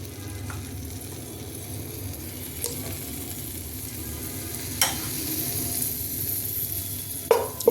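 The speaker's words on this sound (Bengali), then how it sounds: "এটা আমি একটু 2-3 মিনিট একটু খুব সটে করতে হবে।" Garlic paste fries in two tablespoons of hot oil, a continuous close sizzle with occasional scrapes and clinks of a stirring spoon against the pan and no voices.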